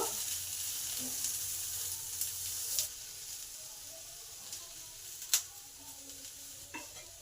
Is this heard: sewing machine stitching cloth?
no